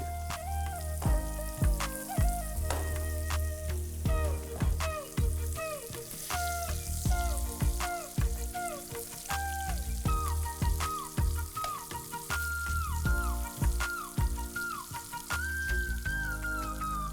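Paneer flavoured with three chillies frying in oil in a kadhai, a steady close sizzle broken by frequent sharp crackles and spatters, with faint background music and no talk.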